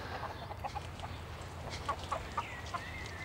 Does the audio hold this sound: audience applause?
no